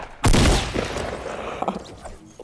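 Gunshots in Fortnite Battle Royale: a sharp, loud shot opens, followed by a ragged spray of quieter rapid fire trailing off over a couple of seconds, with no talk.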